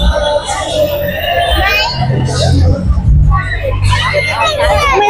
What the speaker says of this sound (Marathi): बघू शकता पहिल्या दिवशी केवढी गर्दी आहे ती.